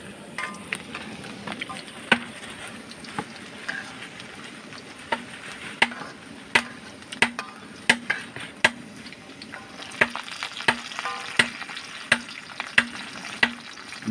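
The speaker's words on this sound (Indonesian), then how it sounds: "Ngoseng kangkung." Water spinach (kangkung) stir-frying in a pan, a steady sizzle with repeated sharp clinks and scrapes of a utensil stirring, close and fairly loud with no talk.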